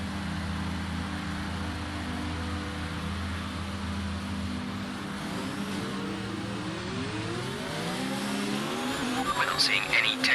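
An F1 2019 video game race car engine holds a steady high drone at the race start, then climbs in rising pitch sweeps as it accelerates among other cars, loud and close, ending with a burst of tyre and engine noise.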